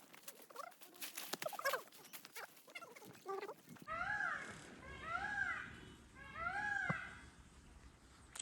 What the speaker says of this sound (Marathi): कसा आवाज येतोय मोराचा बघा.